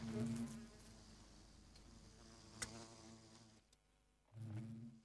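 Bees from the Resourceful Bees mod in the video game Minecraft buzz steadily near a full beehive, a low continuous hum that swells louder at the start and end.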